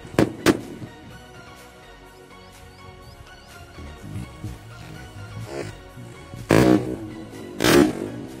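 Two sutli bomb firecrackers go off on a roll of toilet paper: a sharp pair of close blasts at the start, a rumbling stretch of crackle and debris, then two more loud booming bursts near the end, with no talking.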